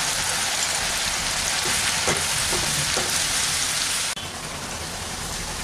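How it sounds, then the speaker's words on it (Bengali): Potatoes fry in a pan of oil, added a small batch at a time, with a dense, close, continuous crackling sizzle that drops slightly in level near the end. "এখন আমি আলুগুলোকে ভেজে নেব"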